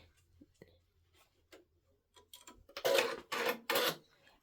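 A Brother embroidery machine runs its automatic needle threader, giving faint small clicks and ticks followed by three short, louder mechanical whirring bursts close by.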